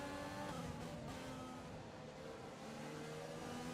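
An F1 car in the F1 2020 game races at high speed, its engine a steady, dense whine with slowly shifting pitch, heard continuously and fairly close for a few seconds.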